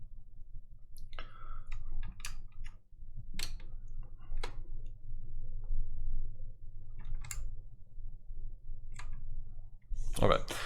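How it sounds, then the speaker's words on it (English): Mouse clicks while editing mask points in DaVinci Resolve, as sparse sharp clicks scattered over a steady low hum, with a louder cluster near the end. "you just do a middle click onto that point"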